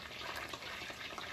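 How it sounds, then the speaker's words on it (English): Beer poured into a pan of butter for a seafood crab boil, a faint, steady gushing pour of liquid lasting about a second with no talking. "I'm gonna pour that into the butter off the fire"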